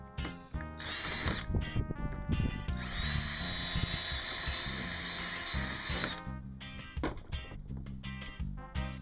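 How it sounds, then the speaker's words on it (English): A power drill whirring close by in several short bursts, with one long sustained run in the middle, drilling bolt holes for kayak backing plates. "You can go ahead and use that same drill bit again, drill out the other 2 remaining holes"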